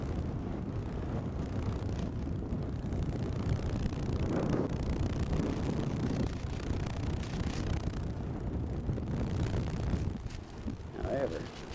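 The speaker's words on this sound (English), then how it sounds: "The wind is blowing like crazy." A strong wind blows at a Gulf of Mexico beach in Port Aransas, Texas, roaring and buffeting the microphone in a steady low rumble that lasts throughout, with faint voices partly buried beneath it.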